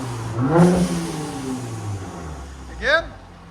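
Mercedes E400 with a 3.0L twin turbo V6 and modified exhaust gives two sharp revs, one early and one near the end, over a steady low idle rumble, heard close outdoors.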